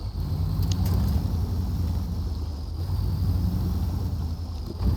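A heavy iX Griswold mod truck in SnowRunner holds a steady, loud engine rumble while reversing, a continuous low drone with a faint whine riding above it and no talk.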